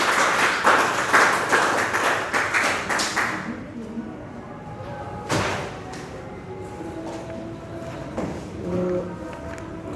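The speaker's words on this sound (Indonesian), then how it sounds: "Kita berikan tepuk tangan dulu untuk kelompok" A class group in a session gets a short round of applause from the room, lively clapping for about four seconds that stops abruptly, then quiet room noise with a thump and soft talking.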